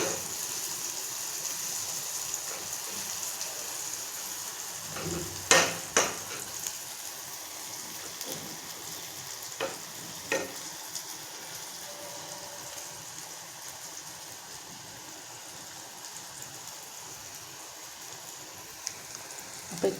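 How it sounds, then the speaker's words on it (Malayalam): Food sizzles steadily in a frying pan after being turned over to crisp both sides, a continuous crackling frying bed with a few sharper pops and clatters around the middle and no voices. "രണ്ട് സൈഡും നന്നായിട്ട് ഫ്രൈ ആയി കിട്ടാനാണ് മറിച്ചിട്ട് കൊടുക്കുന്നുണ്ട്."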